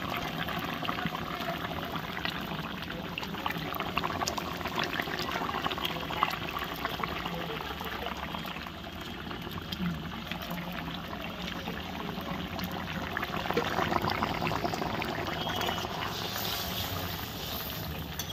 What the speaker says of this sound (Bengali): কি ঝোলটা ফুটে লেগেছে।